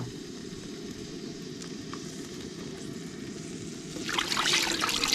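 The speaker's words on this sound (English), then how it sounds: "I'm gonna put a little bit of the seafood stock in, just a little bit right now" Seafood stock pours into a pot with a steady trickling hiss that grows louder and splashier near the end; no talking.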